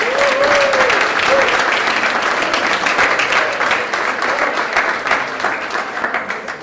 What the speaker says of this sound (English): I'd like to call for a round of applause for our Board of Directors, staff, and volunteers